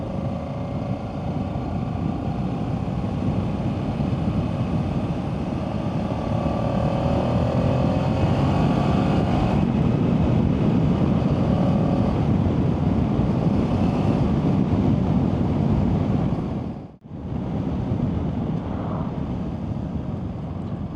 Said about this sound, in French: la moto roule bien, hein